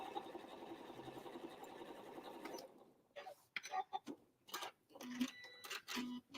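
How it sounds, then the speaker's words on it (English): A sewing machine stitches straight quilting lines across fabric patches on Valentine's Day scrap place mats, with a steady close mechanical whir that stops partway, followed by scattered light handling clicks and faint voice sounds. "I'm going to straight line quilt each patch"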